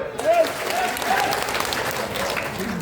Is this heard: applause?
yes